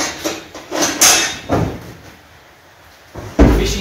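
Aluminium storage drawers on an Isuzu NPS 300 truck body slide and bang shut in several short, loud knocks and rattles close by, separated by brief pauses, with no speech.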